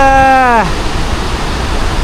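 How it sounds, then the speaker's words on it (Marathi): A steady, roaring rush of falling water from the Marleshwar waterfall in the monsoon, loud and continuous, with a voice briefly heard at the very start. "मार्लेश्वर धबधबा."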